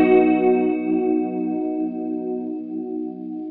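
A sustained guitar chord through a stereo chorus pedal summed to mono shimmers with a chorus effect, its wavering tone ringing steadily and slowly fading, with no voices.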